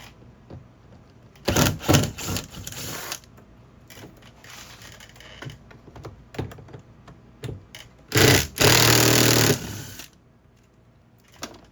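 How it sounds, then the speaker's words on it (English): A power driver spins out screws from the door panel of a 2009–2012 Toyota RAV4 in two short buzzing bursts several seconds apart, with small clicks and handling noises between and no talk. "Take off the two screws that are in here."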